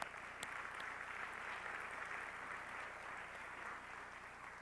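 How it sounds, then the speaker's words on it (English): Steady applause from a banquet audience at a Jewish National Fund dinner, a broad even wash of clapping that holds at moderate level for the whole stretch without any voices over it. "I would ask all of you to give them applause."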